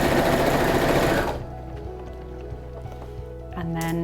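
Sewing machine stitching a fabric cooling cot liner runs loud and close for just over a second, then stops, leaving quiet handling noises before a softer whir resumes at the end.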